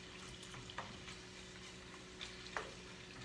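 Medium shrimp sauté in butter with garlic, giving a soft, steady sizzle close by, with a few faint clicks and taps of a utensil against the pan.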